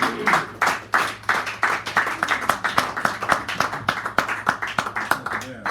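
A small audience at a café poetry reading claps in a brisk, uneven patter of distinct nearby handclaps, with some talking mixed in.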